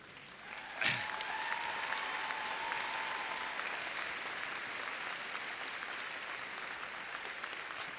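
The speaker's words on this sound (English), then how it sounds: "I suspect the clapping is for it being brief" An audience applauds at a university convocation ceremony, steady mid-distance clapping from a large crowd filling the hall, starting with a sharp onset and continuing evenly throughout.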